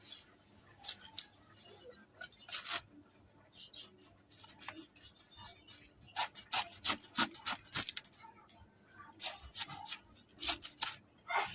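A knife cuts jackfruit into thick pieces with close, dry scraping and rasping strokes that come in irregular bursts, some quick and clustered, with short quiet gaps between.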